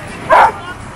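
A single short, loud bark from a dog on a Mediterranean beach in Barcelona, close by, over faint background noise.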